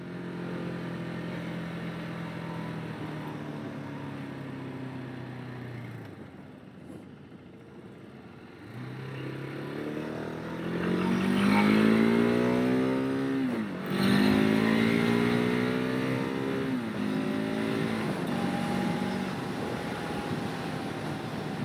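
A 2018 KTM 690 Enduro R single-cylinder motorcycle engine accelerating up through the gears on a ride, a loud close rising drone with several climbing pitch sweeps between shifts and a brief lull near the middle, no talk.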